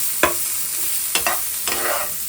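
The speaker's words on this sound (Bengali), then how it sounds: "হালকা একটু ভাজা ভাজা করে নিই" Leftover vegetables being lightly fried in a pan: a continuous close sizzle broken by three sharp scraping strokes of a spatula, with no talk.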